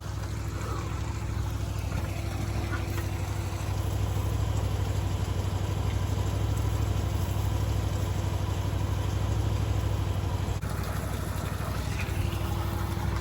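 A steady low tractor engine idling throughout, constant rumbling drone with no talking.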